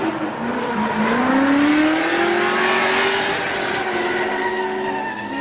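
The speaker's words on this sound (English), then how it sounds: "Hans Lowe in the Corvette, flying through this layout like a rocket." A Corvette drifting nearby at a grassroots drift competition, engine revving as tires squeal in long rising and falling tones, loud and continuous.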